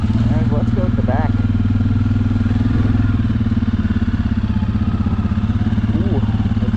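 Suzuki KingQuad ATV engine running in a snowstorm, a loud close steady mid-pitched thrum with rapid firing pulses, while someone talks over it.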